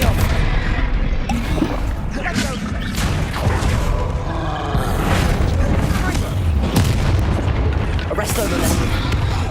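Hogwarts Legacy gameplay with Bombarda blasting spells: loud booming explosions and rumbling impacts repeat over continuous game music and effects, dense and close.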